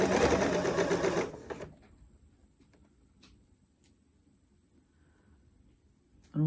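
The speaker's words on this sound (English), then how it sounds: "all I'm doing now is just hemming it, just with a straight stitch." A sewing machine hemming a shirt with a straight stitch runs in a loud, fast steady whir for about a second and a half, then stops, leaving quiet handling noises before it briefly starts up again.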